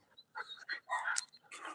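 A small bird dog pants close by in quick, breathy bursts mixed with faint whimpering during an outdoor walk.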